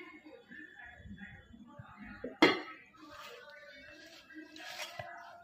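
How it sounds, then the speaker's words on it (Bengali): A lid lifted off a container of kneaded flour dough gives a single sharp clink amid quiet kitchen shuffling, with soft background noise around it. "এখন ঢাকনাটা তুলি"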